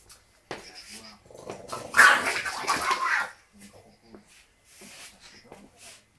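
An aggressive bulldog vocalises in a burst of growly, barking sounds that peak around the middle, followed by quieter intermittent dog noises, with a person's voice talking nearby.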